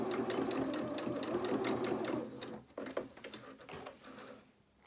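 A sewing machine stitches a small twirling doll dress for a Luna Lapin rabbit doll, a fast close rattling run that halts partway, then resumes in shorter stop-start bursts.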